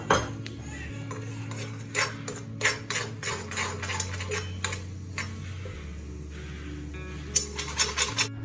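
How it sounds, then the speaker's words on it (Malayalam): Spoon scrapes and clinks repeatedly in a pan while paneer petti filling of egg, sugar and raisins is stirred, irregular metallic taps over a steady low stove hum, close and fairly quiet. "എന്നിട്ട് നല്ലപോലെ ഇളക്കി കൊടുക്കുക."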